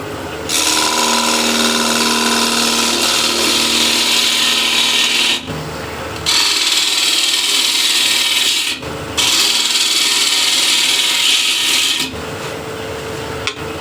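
A dulled bowl gouge cuts into wood spinning on a lathe, making a loud, steady scraping rasp in three long passes separated by brief pauses.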